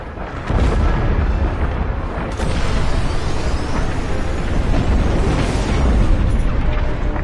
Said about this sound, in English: The frigate is about to explode.